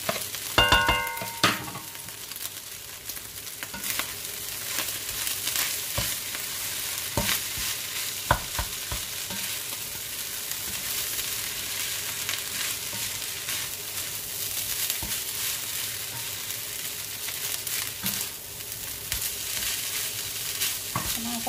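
Indonesian fried rice with dark soy sauce is stir-fried in a pan, giving a steady sizzle with repeated scraping and stirring clatter from the utensil throughout, close and continuous.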